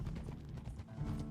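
Horse hooves clip-clopping at a slow, steady walking pace in Red Dead Redemption 2, the old man's slow horse plodding along, a close rhythmic beat of several hoof falls with no talk.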